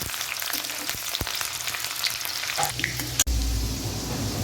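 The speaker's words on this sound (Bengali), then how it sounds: "তেলে পেঁয়াজ কুচি দিয়ে দেব ভালো করে নেড়ে দেব" Chopped onions fry in hot oil seasoned with whole cardamom, cinnamon and cumin for a soya-egg biryani, giving a steady close sizzle with a few stirring scrapes and one sharp utensil knock near the end.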